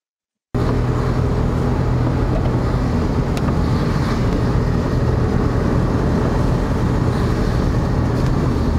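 Strong wind roars steadily into the microphone at a farm during a storm, a dense continuous rumble with gusty buffeting and no pauses, loud throughout.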